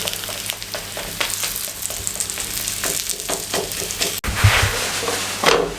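A stuffed cheese paratha cooks in a pan, giving a steady close sizzle with scattered crackles and pops, plus a sharp clatter near the end, and no talking.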